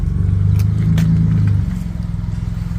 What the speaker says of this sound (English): It just gives the truck a nice exhaust note